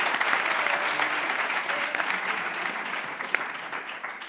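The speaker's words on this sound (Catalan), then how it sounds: "Un fort aplaudiment perquè ho feia molt bé" Studio audience applause on a Catalan word quiz show for an eliminated contestant, a loud, continuous roar of many hands clapping that holds steady throughout with an occasional sharper clap.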